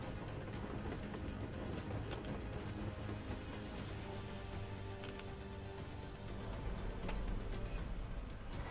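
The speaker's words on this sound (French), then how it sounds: "Yermak, arrête la loco." A locomotive in the video game Metro Exodus rolls to a halt with a steady, heavy rail rumble and clatter, and a thin high squeal rises near the end.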